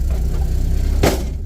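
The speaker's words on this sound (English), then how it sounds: "We're driving the S10." A worn budget Chevrolet S10 pickup, back on the road for the first time since 2009, runs with a steady low engine drone and faint rattle, plus a short burst of louder noise about two-thirds through.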